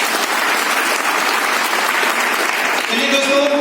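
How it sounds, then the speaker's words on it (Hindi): A large crowd at a Safe Shop company event breaks into loud, dense applause, a steady wash of many hands clapping close by, continuing evenly before a voice briefly begins near the end. "मैं चाहूंगा एक बार सेफसॉफ्ट के लिए जोरदार ताली।"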